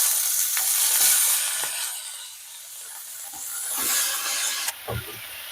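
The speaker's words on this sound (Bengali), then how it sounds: "রসুনগুলো এরকম হালকা বাদামি কালার ভাজা হয়ে গেলেই আমি দিয়ে দেবো ভেজিটেবলগুলো।" Chopped garlic and vegetables sautéing in melted butter in a pan, a steady close sizzle and hiss with occasional soft stirring scrapes, loud at first and easing slightly, no talk.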